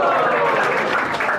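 Dense audience applause at a devotional seminar, many hands clapping at once in a loud, steady burst.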